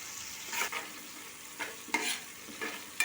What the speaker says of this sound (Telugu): ఆనియన్స్ కొంచెం మగ్గనివ్వాలి ఒక ఐదు నిమిషాలు మగ్గనివ్వాలి